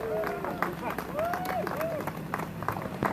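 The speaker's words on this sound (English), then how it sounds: "Give a big round of applause, please." An audience at a political rally in Swansea applauds a former MP of Carmarthen, a dense, continuous wash of clapping and crowd noise with a few whistles rising above it, steady for the whole few seconds.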